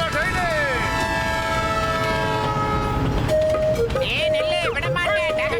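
A cartoon train rumbles past, its horn blaring in long sustained tones before shifting to short wavering toots, loud and close throughout.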